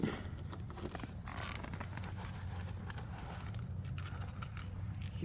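Keys for a locking fresh water tank inlet on a travel trailer RV jangle and clink softly in the hand, a light metallic rattling running steadily through the clip with no talk.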